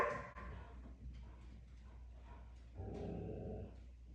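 A dog growls low and then barks a few times nearby, the sounds faint and intermittent over a quiet indoor background.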